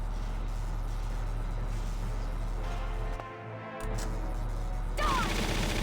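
Gunfire in the Valkyria Chronicles video game, with dense rapid shots over a heavy rumbling low drone, a brief lull partway through, then a sharper burst of shots near the end.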